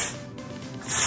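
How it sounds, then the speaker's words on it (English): Texture spray misted onto hair while styling beach curls, a short soft hiss swelling at the start and again at the end, close to the mic with no talking. "I like to spray this before just so the curl has something to hold on to"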